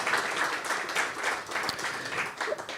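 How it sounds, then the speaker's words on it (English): An audience at a product launch event applauds the CEO with a steady wash of many hands clapping at moderate loudness, even and sustained, with no talking on top. "May we please give a big round of applause to the CEO."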